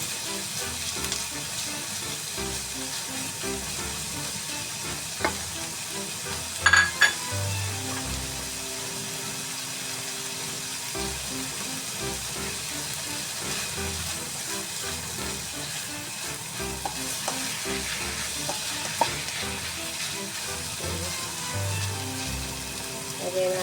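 Strips of chicken fry in a pan for creamy sopas, giving a steady sizzle with occasional stirring and clatter, close and continuous throughout.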